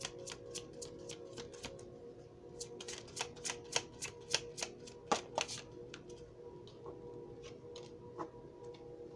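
Tarot cards being shuffled and drawn by hand, a run of quiet crisp flicks and riffles in an irregular rhythm, close up and faint, with a few softer slaps at the end.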